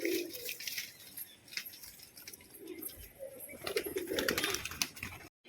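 A red Giribaz pigeon coos in soft, repeated low murmurs, moderately close, over a busy background of rustling and faint clatter, with no talk.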